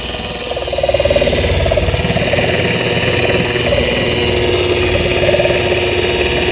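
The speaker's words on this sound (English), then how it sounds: "we're going to start our sander here at the lowest level first" Electric sander running at its lowest speed on paint protection film on a Porsche, a steady loud mid-pitched motor whir with constant vibration and a slight rise in level early on, heard alone without talk.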